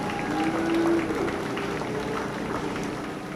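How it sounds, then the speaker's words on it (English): Audience applause at a county fair beef cattle judging, following a class of junior heifer calves; steady, moderately distant clapping fills the whole stretch with a faint tone running underneath. "Let's give them a nice round of applause."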